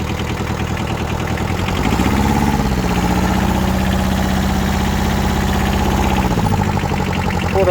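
Small Kubota Bulltra B-10 compact four-wheel-drive tractor engine running steadily close by, a continuous low drone that climbs smoothly in revs partway through, holds a higher even pitch, then settles back down, with no speech.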